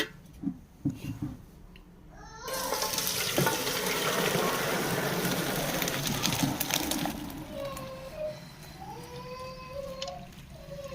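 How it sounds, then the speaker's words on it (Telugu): Water from parboiled biryani rice drains through a strainer, a loud steady gushing splash that starts abruptly and runs for several seconds before easing into trickling, with faint talk early on. "వాటర్ అంతా జల్లడేసుకోవాలి"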